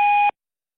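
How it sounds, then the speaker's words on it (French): A voicemail beep on a phone answering line: one loud, steady electronic tone lasting about a third of a second, then it cuts off into silence. "Laissez votre message après le bip sonore."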